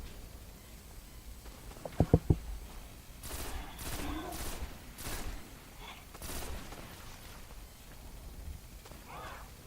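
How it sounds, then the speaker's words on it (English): Three quick sharp sniper rifle shots in the video game Destiny, played on a PS4 Pro, fairly quiet, followed by softer bursts and game noise. "So 3 shots to down him with a sniper rifle."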